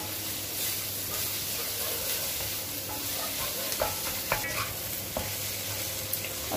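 Diced potatoes for pav bhaji fry in an oiled pan with a steady, even sizzle, while a spatula scrapes and clicks against the metal every second or so, with no voices.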